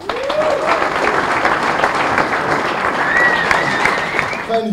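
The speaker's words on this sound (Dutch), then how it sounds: "Mag ik een daverend applaus voor Klaas Dijkhoff?" Loud, dense applause from a stand-up comedy audience welcoming Klaas Dijkhoff, steady and sustained throughout, with a few whoops or whistles rising above the clapping near the end.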